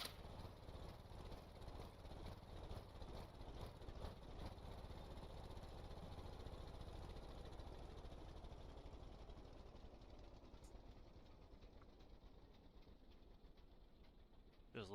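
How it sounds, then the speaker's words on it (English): An aircraft APU in the Stormworks video game runs with a steady, low mechanical drone that stays even and unbroken, fading slightly toward the end. "Just listen to the engine, make sure it's running correctly."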